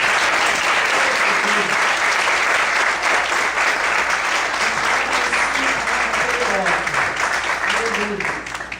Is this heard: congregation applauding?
yes